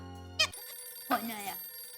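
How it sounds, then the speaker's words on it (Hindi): A telephone rings in a home during a family meal in a sitcom scene, sounding as two short bright electronic ring bursts close by, with a quiet pause between them. "फोन आया।"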